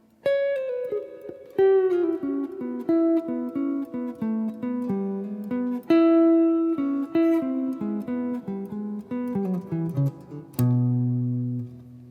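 Clean electric guitar plays a short melodic bridge passage of single notes and chords, phrases rising and falling with brief gaps, ending on a sustained low chord.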